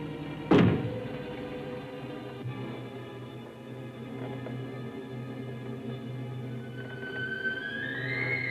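A single knock on a closet door in the horror film The Brain That Wouldn't Die, one dull thump near the start, then a sustained low drone and tense music.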